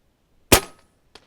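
A JSAR Raptor air rifle fires a single sharp, loud shot on an expo range, with a short ringing tail, followed about half a second later by a fainter, brief impact on the target.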